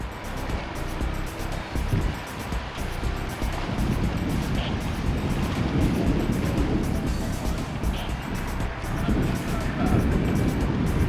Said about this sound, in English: the tug Bridgeport of Gateway Towing in New Haven, Connecticut, eases her barge into the pier